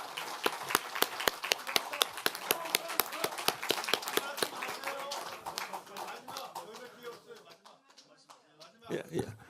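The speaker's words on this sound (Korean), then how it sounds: "송은석 원내대표님께도 감사의 박수 한번 부탁드리겠습니다" Thank-you applause for the outgoing floor leader at a People Power Party caucus meeting electing a new floor leader, brisk rhythmic clapping that thins out and fades after about five seconds, followed by someone speaking.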